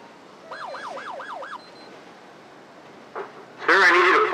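A short whooping police siren blip from a GTA 5 LSPDFR patrol car, an Illinois State Police Ford Taurus, wailing in a quick up-and-down pattern for about a second before a brief silence. A louder horn-like blare follows at the end.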